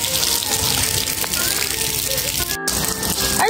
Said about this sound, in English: I'm going to soak her wet right now with the hose.